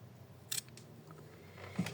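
Scissors trim an embroidered fabric ornament, leaving a little seam allowance: two faint, quick snips spaced well apart against a quiet room.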